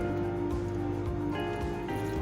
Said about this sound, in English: and pour some hot water here